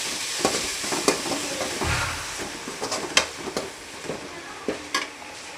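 Chicken gravy with ginger garlic paste frying in a pan while being stirred, a steady sizzle with repeated scraping knocks of the spoon against the pan, fairly close and with no talk.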